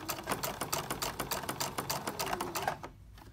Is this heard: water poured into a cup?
no